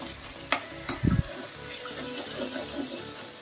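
Masala paste with salt, chili and curry leaves frying in a pan for a lotus seed gravy curry: a soft sizzle under a few sharp stirring scrapes and clinks, quieter toward the end.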